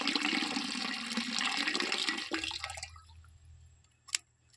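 Yupro DKC liquid seed treatment is mixed into seeds with a rushing, watery swish that is loud at first and then fades away, followed by one brief click.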